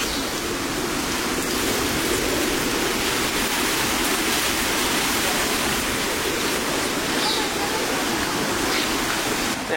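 Water pours through the Kangsabati Dam at Mukutmanipur with the force of a waterfall, a loud, steady, broadband roar that holds unbroken from start to end and comes from close by.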